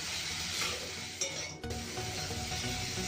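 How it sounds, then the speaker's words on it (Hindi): Fried chickpeas are stirred into sauces in a pan, giving a close scraping stir over a soft sizzle, with a couple of brief knocks against the pan partway through. "बस 1 मिनट तक मैं चने को भी इसके साथ मिक्स कर ले रही हूँ अच्छे से"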